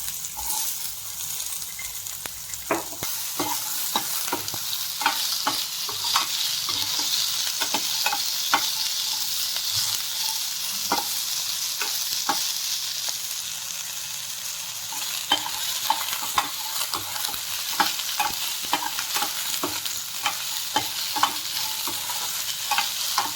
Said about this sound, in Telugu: పచ్చివాసన పోయినాక నూనెలో కొంచెం వేయించుకుందామండి